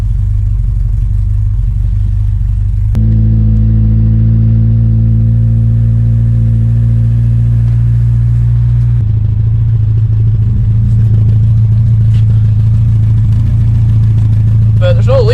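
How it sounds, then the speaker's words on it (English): A 1986 Ford Capri's carburetted engine idling close by, a loud steady low rumble with a brief rise in revs early on and a shift in tone partway through. "oh, it's idling."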